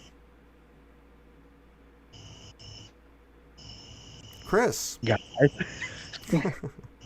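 Crickets chirping outdoors on a porch: a faint, steady high trill runs throughout, joined by brief sharper bursts while people talk over it.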